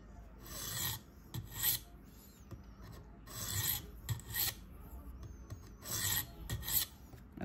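Repeated rasping strokes of a Spyderco K390 steel knife edge drawn across a sharpening stone during reprofiling, coming in several close bursts of two or three strokes with brief pauses between, near and fairly quiet.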